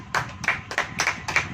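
A church congregation claps hands during a Hindi sermon, sounding as five or six sharp, loud, evenly spaced claps in a steady rhythm.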